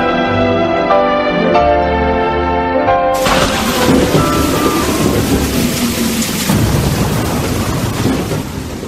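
Heavy rain pours down steadily with rolling thunder, loud and close, after a brief stretch of music at the start.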